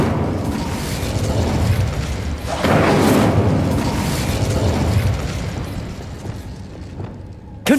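An Incendio fire spell cast in Hogwarts Legacy flares as a loud, whooshing burst with a booming surge midway, then a long roaring tail that thins out, ending in a sharp pop.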